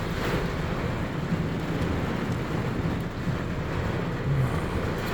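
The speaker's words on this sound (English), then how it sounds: "This is the monsoon that hit." Monsoon rain pouring down in heavy sheets while strong wind gusts blow, a dense continuous roar at steady loudness with no voices.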